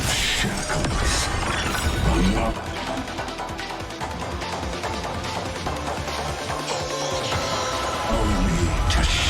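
Glass-like shattering bursts ring out in a Honkai Star Rail battle scene, loud and layered over game music and effects, with a voice speaking in parts.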